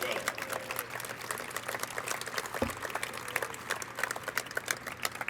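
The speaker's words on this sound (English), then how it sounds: "so give them a round of applause as well" A dinner event audience gives a round of applause inside a reverberant room, steady dense clapping lasting several seconds with a low background hum and crowd murmur.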